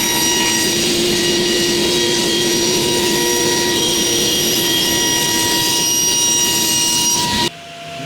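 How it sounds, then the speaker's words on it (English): A table saw cuts along a scribe line with a loud, sustained high-pitched whine and blade roar that holds steady for several seconds, then cuts off abruptly near the end, close by, with no talking. "one of my favorite ways to cut to a scribe line is with the table saw"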